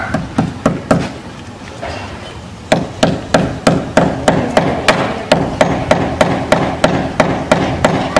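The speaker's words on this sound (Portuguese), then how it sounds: "o vento empurra o martelo, você acaba errando" Sharp, loud hammer strikes repeat in a fast, steady rhythm outdoors in wind, pausing briefly before resuming with dozens of evenly spaced blows.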